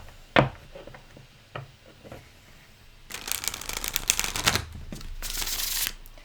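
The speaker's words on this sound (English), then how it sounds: "So let's see how that shuffles." A large first-edition Tarot of Vlad Dracula deck is handled with a few soft taps, then shuffled in close, crisp bursts of riffling card noise, loud and near.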